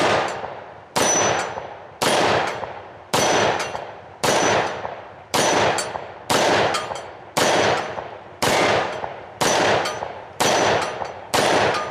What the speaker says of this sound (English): now I'm gonna try to go ahead and shoot at a cadence